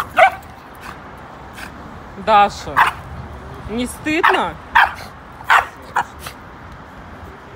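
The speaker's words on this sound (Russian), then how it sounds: "На маленьких не стыдно так лаять?" A small dog barks in several sharp, high yips and short bursts close by, scattered between a woman's spoken words indoors.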